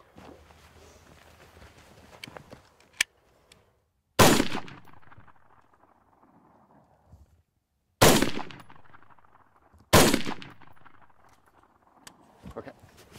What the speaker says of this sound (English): So you're gonna fire 4 rounds.